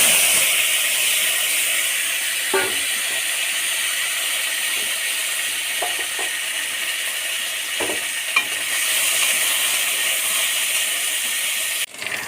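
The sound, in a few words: chopped potatoes and onions frying in a pan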